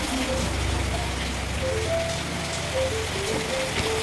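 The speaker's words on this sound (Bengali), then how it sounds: "দেখুন বাইরে বৃষ্টি হচ্ছে" Steady rain pours outside, a dense continuous patter on surfaces with faint tonal background sounds and no talking.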